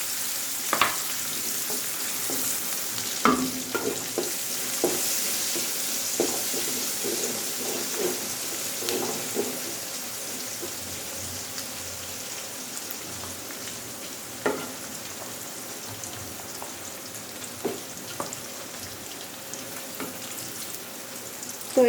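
Okra and vegetables fry in a pan of oil, giving a steady, close sizzle throughout with occasional sharp clicks and scrapes of stirring; no voices.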